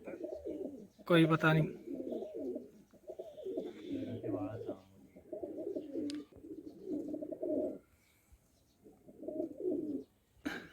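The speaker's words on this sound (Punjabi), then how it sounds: "ਇਹ ਲੱਕਾ ਕਬੂਤਰ ਹੈ, ਇਹਦੇ ਪੈਰ ਤੇ ਹੈਗੇ ਵਾਲ।" A Lakka pigeon with feathered feet coos in repeated low rolling phrases separated by short pauses, close by, while a person briefly speaks between calls.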